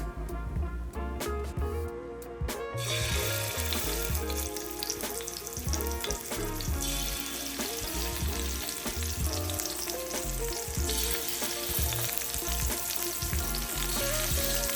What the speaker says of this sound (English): Let's cook the scallops. Season them with salt, avocado oil in the pan,